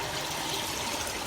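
Water trickles and flows steadily into a K1 filter barrel, a faint continuous splashing wash with no voices.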